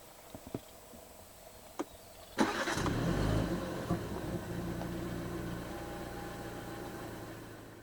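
A 2023 BMW 330i M Sport engine cranks and catches after a quiet moment, then settles into a steady, close idle rumble.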